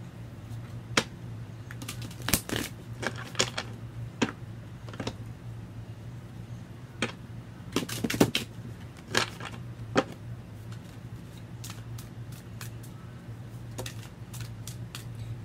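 Tarot cards are shuffled in irregular bursts of crisp riffling and slaps, some sharp and close, with quiet pauses between them and a low steady hum behind, without talk.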